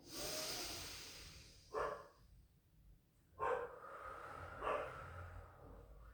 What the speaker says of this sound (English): Apologies about my Cocker Spaniel barking